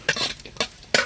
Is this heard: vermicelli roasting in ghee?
yes